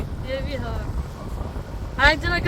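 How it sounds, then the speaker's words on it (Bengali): Strong wind at Konark beach buffeting the microphone, a low rumbling roar throughout with voices speaking briefly over it. "কি হাওয়া রে"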